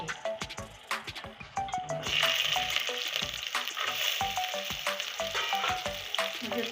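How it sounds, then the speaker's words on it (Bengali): Whole garlic hits hot tempering oil and sizzles loudly and steadily, with a burst of frying hiss partway through and repeated clinks and scrapes of stirring, close up and without speech. "এখানে যে গোটা রসুনটা রেখেছিলাম এই রসুনটা এখন ফরনের উপরে দিয়ে দিচ্ছি"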